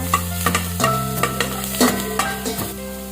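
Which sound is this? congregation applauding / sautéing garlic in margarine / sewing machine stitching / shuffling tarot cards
sautéing garlic in margarine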